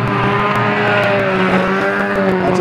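Banger racing cars and caravans roar away together at the start of a race at the Mildenhall gala meeting, a dense, loud, sustained wall of engine drone and revving with clattering knocks, no voices heard.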